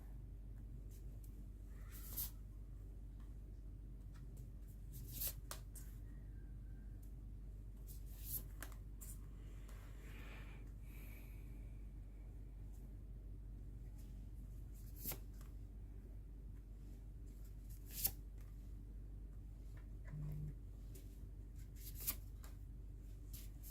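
Tarot cards being laid out and handled, soft scattered flicks and slides of cards at close range, faint and intermittent over a steady low hum.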